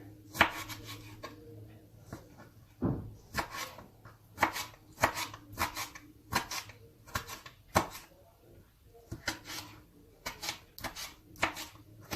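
A knife chops rhythmically on a cutting board nearby, crisp repeated taps in quick bursts with short pauses between.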